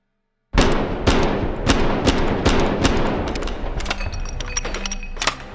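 Webley revolver firing in the VR shooter Hard Bullet VR, a run of loud sharp gunshots about every half second to second, with clinks and rattling between shots and no talk.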